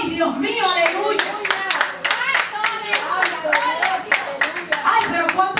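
At a Spanish-language Father's Day church service, the congregation claps in a quick, rhythmic beat, close and loud, while a voice calls out over the hands.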